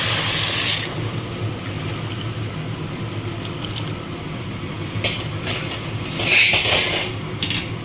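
Hot water poured into frying khichuri in a pot gives a loud hiss and bubbling burst at the start, settling into a steady rumbling simmer with a later surge of sizzle, no talk.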